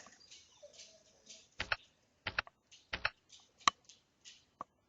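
Computer keyboard keys D and K are pressed in a sparse series of crisp, quiet clicks, several in quick pairs, over a faint background with no one talking.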